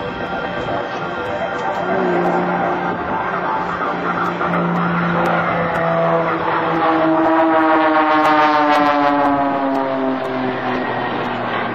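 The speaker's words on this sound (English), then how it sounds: "Michael is flying behind a stock 80 IO 540, producing 300 horsepower and unrivaled reliability" Stock Lycoming IO-540 300 hp piston aircraft engine in flight at an air national guard open house, a loud continuous drone with a rising and falling pitch as the plane passes.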